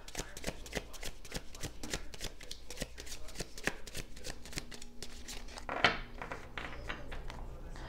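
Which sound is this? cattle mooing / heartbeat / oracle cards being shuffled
oracle cards being shuffled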